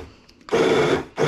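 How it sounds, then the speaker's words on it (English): A stick blender pulping fermented hot sauce ingredients whirs loudly in two bursts, a longer one and then a shorter one, with quiet pauses between them. "I like using a stick blender because it's really quick."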